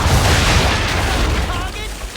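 Ship cannons go off in a naval battle in a video game, a heavy booming blast that rolls away into a long rumbling tail and fades over about two seconds.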